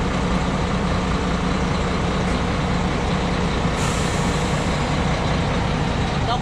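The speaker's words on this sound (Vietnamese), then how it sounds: "Các bạn nghe tiếng máy nổ đấy" A diesel engine of an American semi truck runs steadily up close, a dense continuous rumble with no talk over it.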